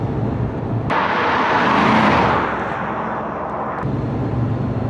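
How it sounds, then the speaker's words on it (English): Toyota Hilux 2WD, 2014, swapped to a Chevrolet LS2 V8 with a quiet exhaust, heard as a steady engine and road drone that swells loudly around the two-second mark, then settles back to a moderate hum. "The exhaust was kept pretty quiet"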